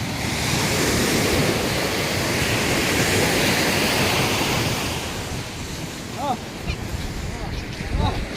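Ocean waves surge and wash onto a beach at Barong Tugal, a steady loud roar of surf with wind noise, easing slightly toward the end where brief chirpy sounds appear.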